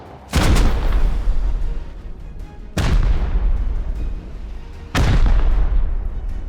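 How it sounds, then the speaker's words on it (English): Rocket explosions during a raid in the video game Rust: three heavy booming blasts a couple of seconds apart, each leaving a long rumbling decay. "these rockets are just relentless"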